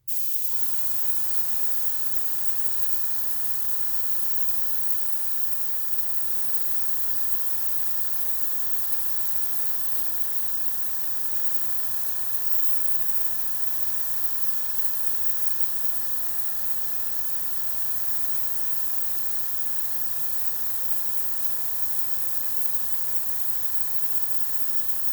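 Air blowing across an alcohol puddle while painting with Posca pens, a steady, soft spray-like hiss with faint tonal hum underneath, unbroken and free of talk.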